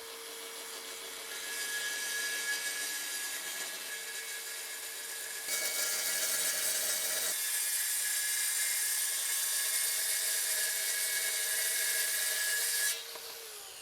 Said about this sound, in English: I set up my track saw in a way so that the blade would cut two pieces of wood in one cut